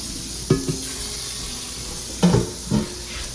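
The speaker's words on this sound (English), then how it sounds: "I'm fixing to start washing my peas in cold water" Brief bursts of cold running water splash into a sink in three short spurts as peas are rinsed, with quiet pauses between them and no talking.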